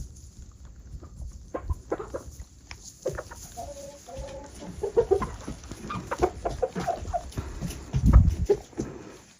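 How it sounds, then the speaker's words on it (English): Roosters squabbling in a fight at a rural forest homestead, with scattered clucks and sharp squawks, scuffling and a loud burst near the end, fairly close and with no talking. "they're fighting each other, and these roosters,"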